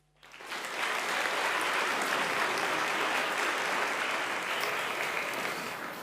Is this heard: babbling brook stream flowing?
no